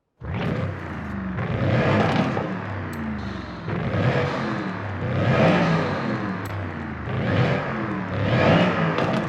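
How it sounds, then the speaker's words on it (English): A supercharged Mercedes SLS AMG in Forza Horizon 5 revs in three long pulls, each swelling with a rising supercharger whine over the engine's roar, loud and close with brief dips between. "You just hear that supercharger whine, and it's so incredible"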